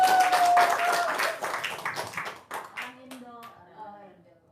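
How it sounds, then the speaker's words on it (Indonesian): Audience clapping at a casual Indonesian talk show, a burst of claps under loud talking that fades out as speech continues. "biar semangat tepuk tangan dong"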